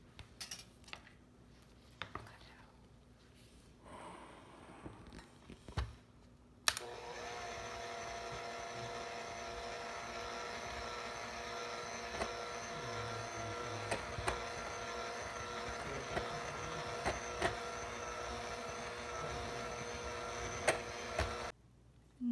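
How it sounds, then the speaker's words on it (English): An electric hand mixer whirs steadily through cream cheese cake batter for about fifteen seconds, with small clinks against the bowl, after some quiet kitchen handling. "Now we're going to use our hand mixer and just mix it all together."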